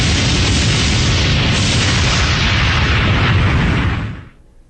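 Simulated nuclear weapon explosion, a loud sustained roaring blast rumbling for about four seconds before cutting off abruptly into quiet, with no voices.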